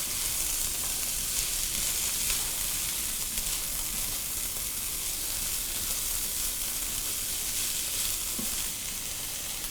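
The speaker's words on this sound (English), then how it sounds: "Here's your green beans. And we're going to go ahead and give those a saute." Green beans sauté in a hot pan, giving a steady, even sizzle that continues unbroken throughout at moderate volume, with no voices.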